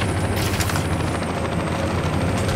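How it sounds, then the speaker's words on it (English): Helicopters in the video game Saints Row give a steady, loud rotor and engine roar that fills the whole stretch without letup, with no voices over it. "Those helicopters are dropping Panteros like dagnab confetti."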